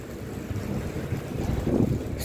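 Strong wind gusts through a new park by the Baku railway station, a dense low roar buffeting the microphone and swelling slightly near the end.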